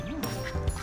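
A few short quacks from a duck, fairly faint, over quiet background noise.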